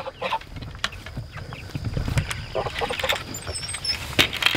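Chickens clucking and a goose calling as a flock is let out of its coop in the morning, with scattered close clucks, squawks and higher calls over low farmyard rumble and a few brief voices.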